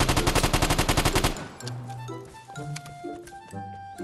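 Rapid burst of gunfire in the multiplayer shooter Vigor, a dense string of evenly spaced shots that cuts off abruptly, followed by quieter game sounds and tones.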